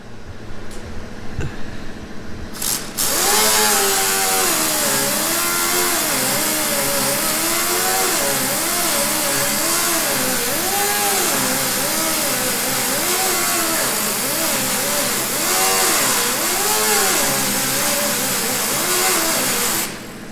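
Body filler being ground down on a 1971 Chevy C10 with a power grinder, a loud continuous whine that wavers in pitch as pressure shifts, running steadily for most of the stretch after a brief quieter start.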